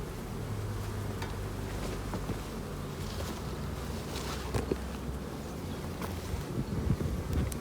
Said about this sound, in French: Là, j'ai encore une abeille malade ici.